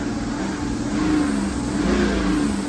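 A BMW 330d with the M57 diesel engine, just repaired after a melted, leaking inlet manifold pipe, revs up close by. A steady low diesel drone swells through a couple of smooth rev rises, with no talking.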